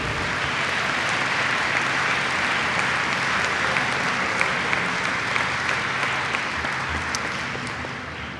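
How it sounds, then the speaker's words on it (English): Sustained applause from a large audience, dense and steady throughout, slowly fading toward the end. "Let's give it a round of applause for democracy."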